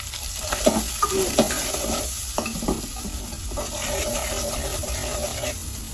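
Shrimp frying in a pan for a bottle gourd and shrimp curry: a continuous close sizzle with crackling pops and scraping stirs, busier at first and then settling into an even hiss.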